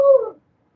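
A dog lets out one short, high whimper that tapers off within half a second, close and clear, followed by silence.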